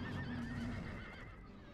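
Cavalry horses whinny loudly in a Lord of the Rings video game battle, one sustained neigh close up over a continuous rumbling din of the fight.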